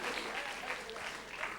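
Applause from an audience welcoming donors at a Jain religious gathering in India, a steady wash of clapping at moderate distance running through the whole short stretch.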